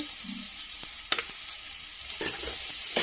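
Chilies and chili powder frying in oil in a pan for a village-style curry, a steady soft sizzle broken by a few clicks and scrapes of stirring, with no talk.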